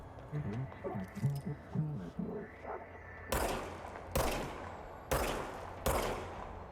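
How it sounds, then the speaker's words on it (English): Machine gun in the game Control firing four loud, separate bursts spaced about a second apart, after a stretch of talking. "now I have a machine gun"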